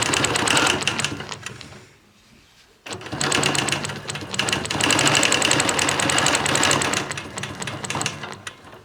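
A sewing machine quilts a block along a Squiggy ruler with a fast, rapid stitching patter. It runs loud and close, stops briefly as the ruler is repositioned, then resumes steadily to the end.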